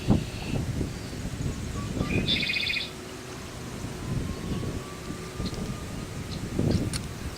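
Steady wind buffets the microphone with low rumbling gusts, a few faint bird chirps and rustling in the background.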